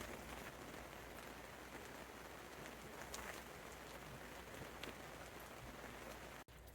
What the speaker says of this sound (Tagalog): Rinig niyo ulan. Tatahimik ako para marinig niyo.